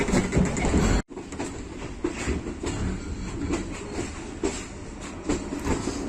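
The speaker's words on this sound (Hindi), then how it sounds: "शाहदरा जंक्शन से जो ट्रेन है वो शाहदरा, नारोवाल, सियालकोट ब्रांच लाइन पर शिफ्ट हो रही है" A train on the Shahdara–Narowal–Sialkot branch line in Pakistan rumbles steadily past, wheels clattering over rail joints with repeated clickety-clack beats after a brief cut, loud and close throughout.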